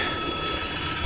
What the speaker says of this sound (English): Oh shit, that's my phone.